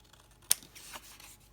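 A single crisp snip of scissors cutting scrap paper for a tag, close and clear, followed by faint rustling of the paper in a quiet room.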